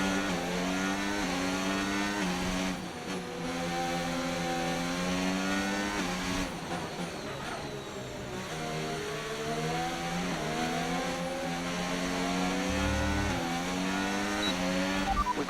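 A Formula 1 race car engine in the F1 25 video game howls continuously at high revs, its pitch sweeping up and down through gear changes and corners over the whole stretch, with no talking.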